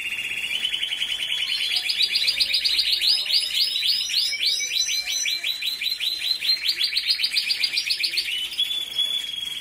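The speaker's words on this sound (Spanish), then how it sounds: "Este también es un pajarico que canta muy bien" Songbirds in a home aviary sing continuously, a dense run of rapid high trills and chirps that rises and stays loud and close for the whole stretch, with no voices.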